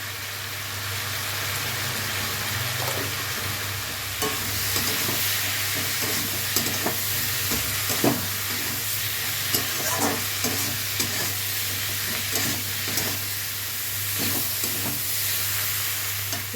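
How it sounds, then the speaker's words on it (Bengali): Vegetables spiced with turmeric, chili and cumin fry in a pan, a steady sizzle punctuated by repeated scraping stirs of a spatula throughout, no voices. "সবজিগুলো আমি ভালো করে ভেজে নিয়েছি।"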